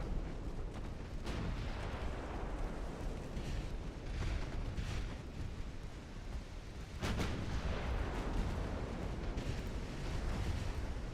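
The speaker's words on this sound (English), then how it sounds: "Thank God we got so many 5-inch guns on this thing." 5-inch naval guns on a warship in a video game fire in repeated heavy booms over a constant low rumble, some blasts sharper and louder than others, with no one speaking.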